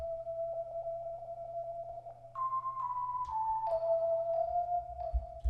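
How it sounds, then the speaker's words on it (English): A Rhodes electric piano one-shot plays a soft melody of sustained tones, a long held note then a few stepped notes, mellow and moderately quiet over a low hum. "Then we had a Rhodes."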